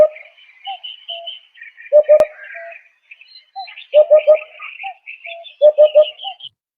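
A hoopoe calls outdoors in Portugal, giving soft, hollow triple hoots in repeated bursts, clear and fairly close, with faint chirps from other birds in between.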